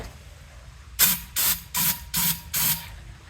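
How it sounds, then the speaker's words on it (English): Five short hissing bursts from an aerosol can of throttle body cleaner sprayed into a snowblower's air intake, evenly spaced, each a second or less, close to the listener with quiet between. "spray some throttle body air intake cleaner in there"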